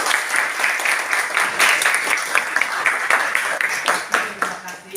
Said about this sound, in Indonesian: semua kita tepuk tangan karena sudah selesai